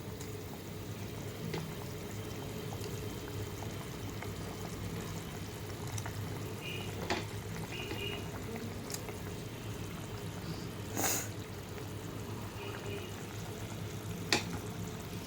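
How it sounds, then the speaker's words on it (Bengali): Veg koftas dropped into a bubbling curry gravy in a kadai, with a steady low simmering hiss throughout and a few soft clinks and splashes scattered over about fifteen seconds, fairly quiet with no talk. "ঝোলটা টকবক করে ফুটে উঠেছে, এবার আমি কোপ্তাগুলো অ্যাড করে দেবো"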